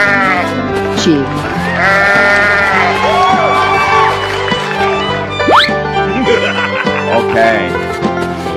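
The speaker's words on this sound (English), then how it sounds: "Sheep." Sheep bleating several times amid a busy, loud mix of other sounds, with voices and a crowd-like background running underneath throughout.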